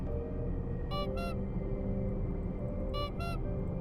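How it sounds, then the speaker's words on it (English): A submarine's horn in the Barotrauma video game sounds two short paired honks, one early and one near the end, loud and distinct over a steady low engine drone and rumble. "we shall honk in the abyss"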